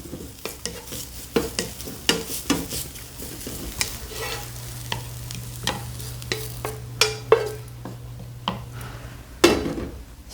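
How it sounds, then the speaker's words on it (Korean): Ingredients for gujeolpan stir-frying in a pan, a steady sizzle punctuated by frequent sharp clacks and scrapes of a utensil against the pan, close-up with no talking. "자, 이렇게 볶아주세요."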